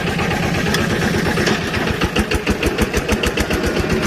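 An old Japanese Yanmar 11 hp walk-behind tractor engine runs steadily up close, its low rhythmic thumping chugging on throughout with a vibrating, knocking texture and no talk.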